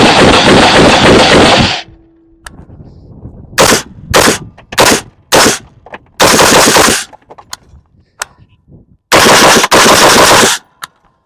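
A PSA PA-15 20-inch M16A4 clone rifle fires 62 grain green tip rounds outdoors, loud sharp cracks in quick single shots and short strings separated by pauses, alone with no talk.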